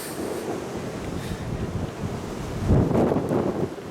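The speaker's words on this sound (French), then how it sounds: "Et vous pouvez entendre le vent" Strong wind buffets the microphone on an exposed headland near a promontory castle, a steady broadband roar that surges louder in the last second, with no voices.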